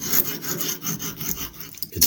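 A vintage pocket knife blade being sharpened, close rhythmic rasping strokes of steel drawn across an abrasive, several back-and-forth passes in quick succession.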